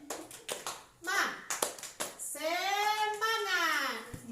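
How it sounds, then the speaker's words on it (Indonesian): Children in a classroom doing a rhythmic spirit clapping chant: a run of quick, crisp claps, then young voices chanting together in a rising and falling pattern, near and lively. "Kita semua tepuk semangat."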